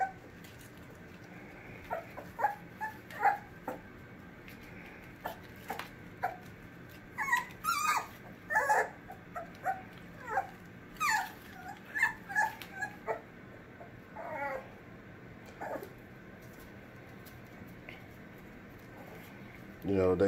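Young puppies whimpering and yipping in scattered high bursts, some clustered and some isolated, fairly close and moderately quiet over a low background, with a person talking at times.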